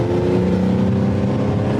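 Mercedes-AMG GLE 53 4Matic exhaust in sport mode, a steady, loud, deep engine drone with a slight rise in pitch held throughout, close and continuous, with no talking.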